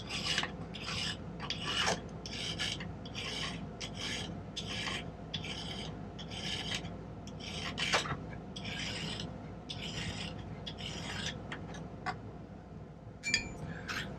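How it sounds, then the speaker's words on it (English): Hand filing on the end of a piece of silver pattern wire for a spinner ring: a steady series of rasping strokes, close and fairly loud, in an even back-and-forth rhythm with no talking. "I'm going to snip off the end of this piece of pattern wire here, save myself a little filing, and then"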